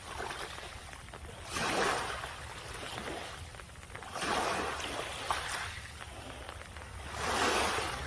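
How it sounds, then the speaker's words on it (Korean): Sea waves roll in on an open shore beside a car-camping spot in Muan, breaking in three broad washing surges a few seconds apart over a steady low rumble, moderately distant and with no voices. "잠시 파도 소리를 들어보시죠."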